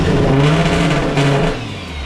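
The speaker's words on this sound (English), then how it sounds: "Now you're revving it out." A car engine revs with the throttle held open, loud and close, with a strong rising-then-steady drone that drops back toward the end of the short burst.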